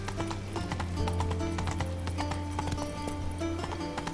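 Roach, the horse in The Witcher 3, clip-clops along in a steady rhythmic gait, hooves close and clear over a low ambient drone, with a faint whinny-like tone in the mix.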